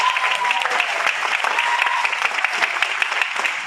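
Audience clapping at an energetic speech, a dense, even wash of applause from many hands throughout, fairly close and steady.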